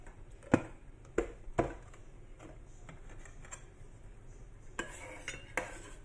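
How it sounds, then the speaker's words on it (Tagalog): Oyster sauce and soy sauce stirred together for an okra dish, with a few sharp clinks of a utensil against a dish early on, a pause, then more light clinks and scrapes near the end, close and quiet, without speech. "Mix lang natin yun."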